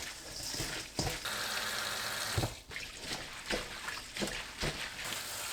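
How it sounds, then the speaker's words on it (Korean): Hijiki seaweed is kneaded by hand with coarse salt and vinegar, producing soft wet squelches and gritty rustles in irregular bursts, fairly quiet and close. "톳에 굵은 소금 1큰술, 식초 1큰술 넣고 주무릅니다"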